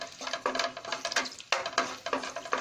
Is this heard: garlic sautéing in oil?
yes